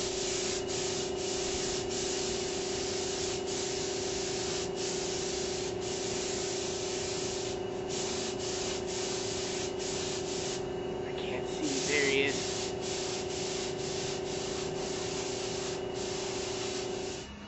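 A spray gun lays a second coat of paint on a hot rod, giving a steady, continuous hiss close by that runs almost unbroken, with a hum beneath and a brief voice partway through.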